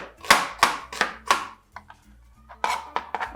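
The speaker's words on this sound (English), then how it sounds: "So you are going to chop your onion into very tiny pieces, like I'm just doing now." Knife chopping a medium-sized onion into tiny pieces on a board: four sharp, evenly spaced chops up close, a pause of lighter taps, then a quicker burst of chops.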